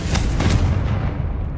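Confringo blasting spell going off in Hogwarts Legacy, a dense booming explosion with a heavy low rumble that holds steady for the whole moment, with no voices.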